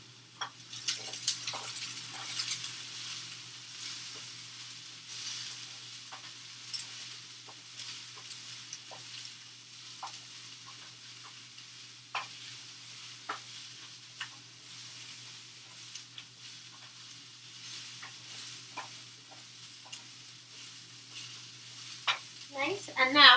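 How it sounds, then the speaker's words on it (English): A peanut vegetable stir-fry sizzles in a pan while a utensil stirs it, with scattered scrapes and taps over a low steady hiss, fairly close and without speech. "first I'll stir my stir fry"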